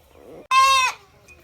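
A goat gives a single loud, close bleat of about half a second, clear and strongly voiced, among a small herd on a farm where goats are being milked and jostled.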